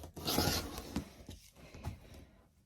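Fabric being cut into 2.5-inch quilt strips for a baby blanket, a close, dry scraping swipe followed by a few softer rustles and scrapes.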